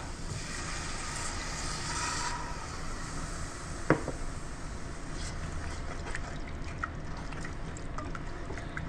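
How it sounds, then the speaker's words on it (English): Milk is poured into a flour and butter roux for an egg sauce, giving a steady liquid pour with a soft splashing wash that runs under room noise, broken by a brief sharp clink near the middle. "Okay, and then we're going to add our milk."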